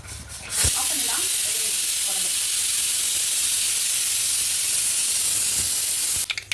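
Loud, steady hissing and crackling of mustard seeds spluttering in hot oil runs throughout, with faint voices near the start and end.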